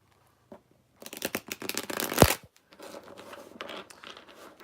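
A deck of tarot reading cards is shuffled by hand in brisk riffling bursts, close and crisp with a sharp snap midway, then quieter shuffling follows.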